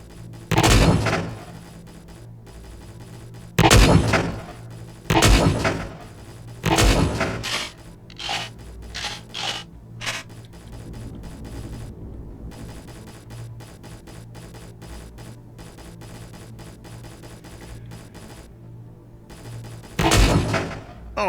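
Hover tank firing in a video game: loud, sharp gunshot blasts that come singly and in short bunches, with quieter mechanical clanks and hum between the shots.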